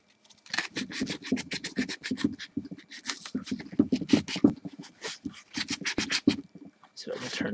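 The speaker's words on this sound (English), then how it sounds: "you want to sand right up in these edges right here along the T, inside of the T itself" Sanding by hand along the inside edges of a helmet's visor area, with repeated short rasping strokes in a steady rhythm, close up, and a voice talking underneath.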